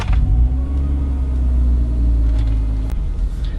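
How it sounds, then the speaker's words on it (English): Car fitted with a new AFE half-inch exhaust and muffler, a deep, steady bassy exhaust rumble close to the microphone with slight revving, heard alone. "sound test with the new AFE half-inch exhaust installed."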